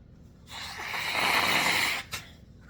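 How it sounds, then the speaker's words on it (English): A long, forceful nasal blow lasts over a second, followed by a brief second puff, close to the microphone with no talking. "Now I gotta blow my nose again."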